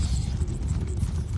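Horse hooves clip-clop in rapid, steady rhythm in Elder Scrolls Online, a close, loud galloping patter of thuds, alone without talk.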